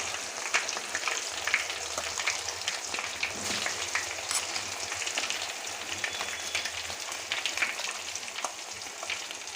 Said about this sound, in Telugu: అల్లం వెల్లుల్లి పేస్ట్ వేసి కలుపుతున్నాము